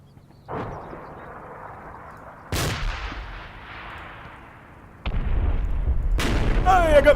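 Gunfire and artillery in the Combat Mission wargame, a stray round knocking out an enemy gun: sharp booms at about half a second, two and a half and five seconds, each trailing into a long rumble, with a final loud burst near the end.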